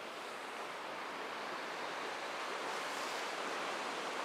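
Fast-flowing river water on a fly-fishing stretch rushes in a steady, broad hiss, continuous and fairly close, with no voices over it.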